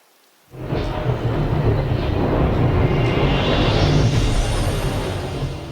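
Thunderstorm with heavy rain in Final Fantasy XV, beginning abruptly after a brief silence and holding as a loud, steady downpour with low rolling thunder throughout.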